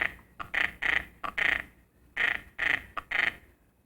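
Hen mallard duck call blown softly in short, burred notes imitating a diving duck confidence call, a series of quick separate bursts in an uneven rhythm, close and alone.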